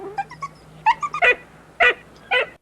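A dog tied to a tank whimpers and yelps in the war film Patton, a series of high, thin, broken cries in short bursts against a quiet background.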